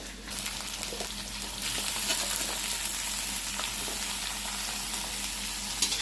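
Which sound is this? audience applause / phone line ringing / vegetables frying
vegetables frying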